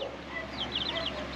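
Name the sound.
chickens clucking inside a coop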